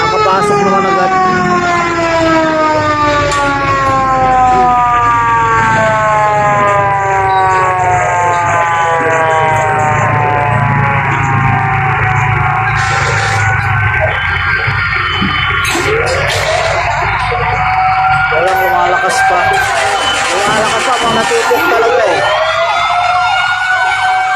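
Loud wailing fire truck sirens at a house fire, several overlapping and rising and falling continuously, with a blaring horn burst later, up close and filling the whole scene.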